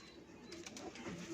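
Plain domestic pigeons coo softly in a brief, faint burst of low throaty calls, repeated a couple of times against quiet background noise.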